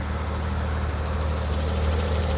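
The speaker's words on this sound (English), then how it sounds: "The engine is not shaking, it's just working really, really nice." A warm BMW E31 850 V12 engine idles steadily and smoothly with a deep low rumble and an even hum, continuous and close with no stutter or misfire.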